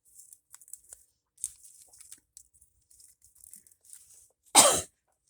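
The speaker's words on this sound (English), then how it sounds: "Sorry about that cough." A single sharp cough near the end, close and loud, after a stretch of faint light tapping and rustling.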